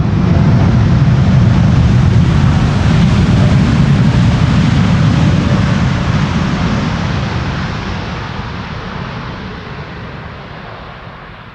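United airliner landing in gusty crosswind at Amsterdam Schiphol, a loud, broad jet engine roar that holds steady and then gradually fades as the aircraft passes, with no voices over it.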